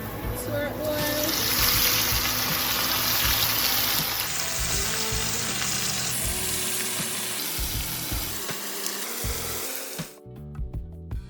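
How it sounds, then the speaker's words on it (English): Escovitch fish frying in hot oil with garlic and pepper gives a loud, dense sizzle that swells as more pieces go in, then eases and cuts away near the end. "we are going to add some more fish to our oil"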